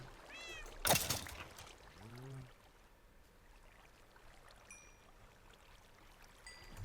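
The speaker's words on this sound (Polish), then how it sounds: "O, tutaj mam jednego kotka." A Minecraft cat meows twice in the game, a short rising mew and then a lower one, over soft flowing-water ambience with a sharp thump between them and faint game chimes afterward.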